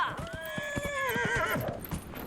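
A horse in Dragon Age: Inquisition gives a loud, drawn-out whinny that wavers and falls, while its hooves clip-clop in a steady trotting rhythm underneath.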